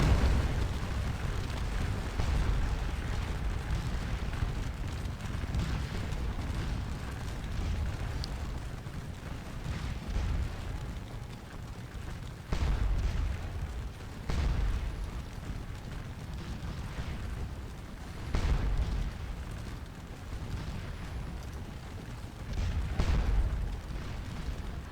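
Massed musket and artillery fire from troops in the Napoleonic battle game Scourge of War: Waterloo, rolling as a steady distant rumble with several heavier booming bursts rising out of it throughout.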